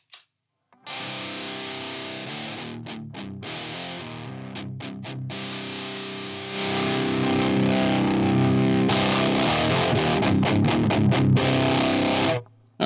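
Electric guitar through a Horse Extreme Metal distortion pedal with drive and boost turned all the way down: sustained fuzzy chords cut by short choppy stops, growing fuller and louder partway through, with no talking.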